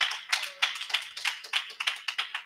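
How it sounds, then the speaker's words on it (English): A church congregation claps during a sermon, a run of sharp, uneven hand claps bunching into bursts and fading out in about two seconds, fairly close and with no talking over it. "Give God a hand clap because he's teaching you tonight."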